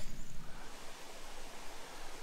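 Steady broadband rush of the west branch of the Sacandaga River flowing along a wooded trail shoreline, a continuous close-by wash of moving water with no voices.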